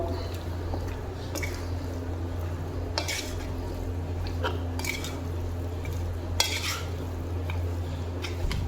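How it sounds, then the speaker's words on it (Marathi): Masala spices being mixed by hand into chicken 65 in a bowl: soft, sparse squishing and occasional light clinks against the bowl over a steady low hum, with no speech. "व्यवस्थित एकजीव होईपर्यंत आपल्याला हे लावून घ्यायचं आहे व्यवस्थित मिक्स करून घ्यायचं आहे"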